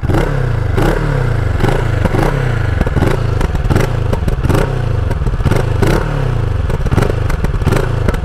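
A 6.5 cc motorcycle engine revs repeatedly in steady surges, each throttle blip rising and falling, loud and close with a clattering mechanical edge.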